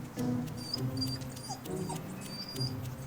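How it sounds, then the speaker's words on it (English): A guard dog at a tow yard whimpers and yips in short, high whines, close by, several brief cries spread over a few seconds. "If the guard dog will let him get rigged up."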